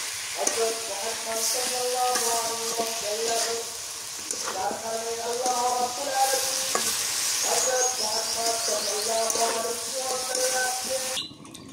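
Dried fish cooked in spice masala, with potatoes added, is stirred and fried in a pan. Repeated scraping strokes run over a constant sizzle, with faint tonal voice-like sounds in the background.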